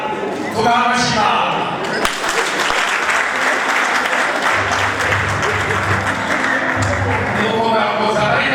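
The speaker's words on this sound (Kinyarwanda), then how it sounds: "bakabanza tubaha amashyi" An audience at a dowry-giving ceremony claps in a sustained burst of applause, dense and steady, with voices rising around it at the start and end.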